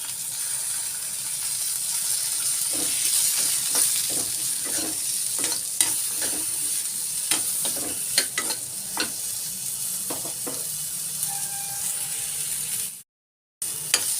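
Garlic and onion frying in a pan for brinjal chutney, a steady close sizzle with scattered sharp crackles and spoon stirring clicks, cutting out briefly near the end.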